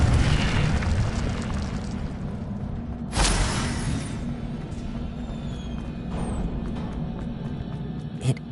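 The Incendio fire spell is cast in Hogwarts Legacy as a sharp burst of flame over a steady rumbling game background, with a fainter pop near the end.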